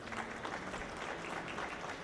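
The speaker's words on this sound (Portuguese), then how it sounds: "Palmas para os três." Audience at a telecom industry panel giving a steady round of applause, dense clapping at moderate level, soft and somewhat distant, with no talk over it.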